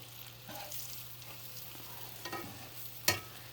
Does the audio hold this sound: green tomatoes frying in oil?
yes